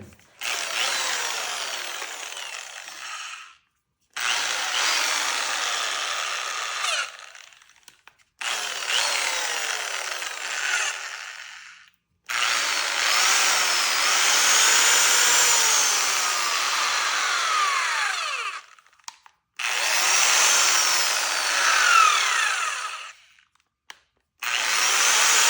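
A Harbor Freight Bauer right angle drill, worn from sanding 28 bowls, whirs in five loud near bursts of several seconds each with short silent gaps between, and no one speaks.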